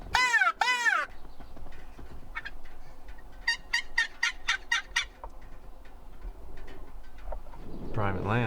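A wild turkey gobbler in Oregon river-bottom country gobbles several times in quick rattling bursts, with a strong call at the start and a run of repeated gobbles midway, over a low outdoor rumble.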